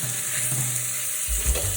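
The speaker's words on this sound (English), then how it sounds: "Nice sizzle." Thin apple slices sizzle steadily in a hot frying pan, a close, even hiss with a faint stirring scrape and no voices.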